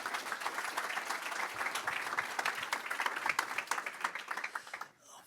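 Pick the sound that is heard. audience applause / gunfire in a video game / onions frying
audience applause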